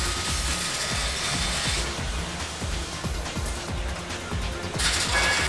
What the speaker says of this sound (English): This is where they teach the welding robots.